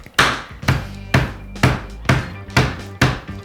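A small sauté pan smacks pork pieces flat on a board, landing seven sharp, close thwacks at an even, quick rhythm, each hit followed by a short ringing tail.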